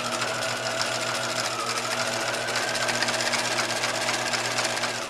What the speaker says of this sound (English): I sew for as far as I can use my hand, then I kind of readjust in between.